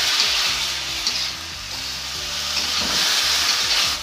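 Tofu stir-fried with large red chili, scallion and a prepared sauce, a steady loud sizzle and hiss with scraping stir strokes running throughout, no talking.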